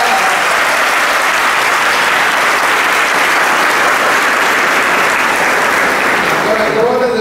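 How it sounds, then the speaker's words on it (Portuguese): A church congregation at an evening Mass for the feast of Saint Francis of Assisi claps for the children, a loud, dense, sustained wall of applause with voices underneath, tapering slightly at the close. "Salve de palmas, crianças."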